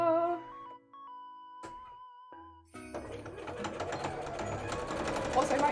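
A home sewing machine stitches cosplay fabric pieces, starting as a steady mechanical whir after a stretch of tonal electronic sound and continuing at close range to the end.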